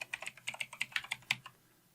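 A short burst of about ten crisp keyboard clicks while typing a user name on a Windows Server 2016 computer, close and distinct, ending in quiet after a second and a half.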